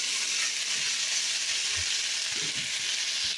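Banana flower curry, mochar ghonto, frying in a pan, a steady close hiss of sizzling oil with a few soft low knocks of stirring near the end.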